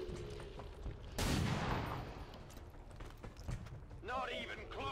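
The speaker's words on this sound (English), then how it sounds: "Let's have a pistol shot here." Pistol shot in XCOM 2: War of the Chosen: one sharp, loud crack with a decaying tail, then quieter game sounds after it.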